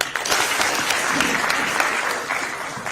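A crowd at a live political address in Kenya breaks into sustained applause, a steady wash of many hands clapping throughout.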